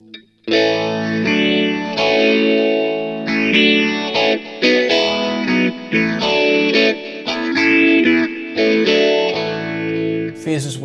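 Electric guitar played through a Line 6 POD GO with a phaser effect, chords sweeping and swirling in a steady whooshing cycle; loud and close, with no talking over it.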